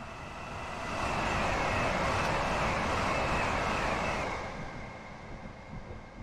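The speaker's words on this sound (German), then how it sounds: "Der Zug ist aber laut." A Class 700 electric train in Train Sim World 2022 runs with a loud steady broadband roar that swells, holds for a few seconds, then eases off, with no voices.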